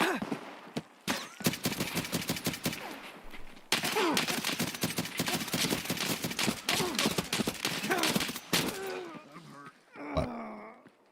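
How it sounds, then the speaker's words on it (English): Dense, fast gunfire in the shooter game Escape From Tarkov, loud and close, crackling in rapid volleys for most of the stretch before breaking off, with a brief groan near the end. "I was getting sniped from behind by an actual player"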